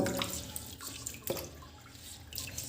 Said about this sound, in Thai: ล้างมะกรูดนะครับ